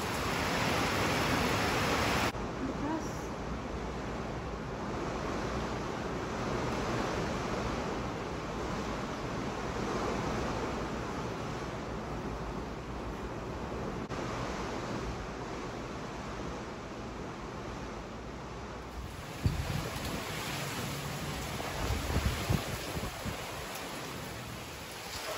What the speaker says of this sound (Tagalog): Pero, yung ulan naman ang malakas ngayon.